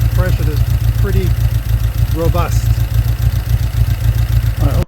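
A restored 1955 Triumph TR2 engine running at a steady idle, loud and close, with a throbbing low rumble and a person speaking over it.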